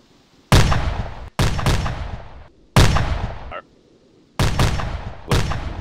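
Arma 2 artillery guns fire rounds one after another, five loud booming shots with long decaying tails and short gaps between them.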